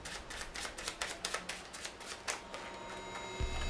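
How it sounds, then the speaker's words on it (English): A deck of playing cards being shuffled by a card cheat, a quick run of crisp riffling snaps and flutters lasting a few seconds, close and fairly quiet. "The cheat shuffles the cards"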